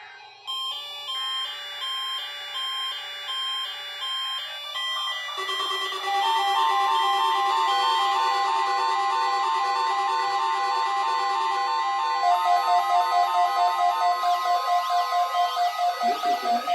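A NOAA All Hazards weather radio broadcast plays its warning alarm test, shifting electronic tones that settle into a sustained, pulsing alert tone, loud and clear with no talking.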